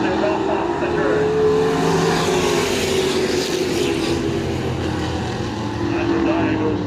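Race cars circling an oval track at a Maine short-track event, their engines droning steadily at mid distance with a rising and falling whine as they pass, while a commentator talks over the noise throughout.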